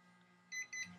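Electronic beeps from a skin care device's timer, two short bright tones in quick succession, fairly faint against low background hum, with no talking.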